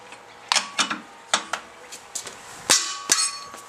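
Sharp metallic clangs as a wrench on the wheel nuts of a 2012 Toyota RAV4 is kicked, several separate hits a fraction of a second apart, close and loud with no talking.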